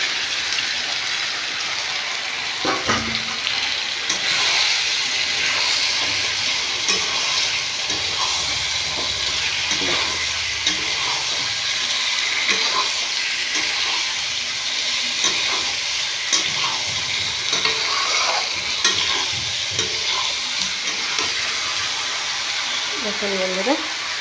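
Fried eggs and potatoes going into a curry masala whose oil has separated, a continuous loud sizzle with stirring clinks and scrapes throughout and a voice talking now and then over it.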